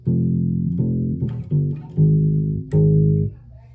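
A short bass guitar riff from a song, low, sustained notes plucked in sequence with brief pauses between phrases.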